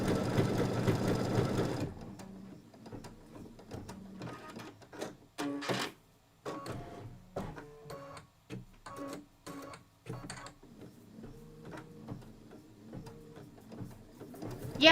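A sewing machine stitches in short bursts, a close mechanical whirring and rapid needle tapping that starts and stops repeatedly, with pauses between runs after a brief stretch of louder noise at the start.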